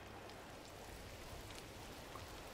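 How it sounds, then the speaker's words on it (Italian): Steady rain falls in the video game Gris, a soft, even wash of drops and patter continuing throughout at a constant, moderate level with no talking. "E mo piove pure."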